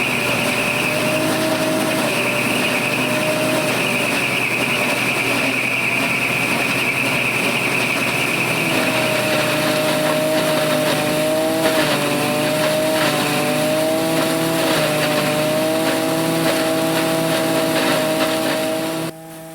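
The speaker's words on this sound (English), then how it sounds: "The hammer mill and bagger are powered by the tractor's PTO." Steady, loud drone of a hammer mill and bagger driven by a tractor's PTO, grinding corn, with a continuous engine roar and a shifting whine that changes pitch midway, running throughout without pause.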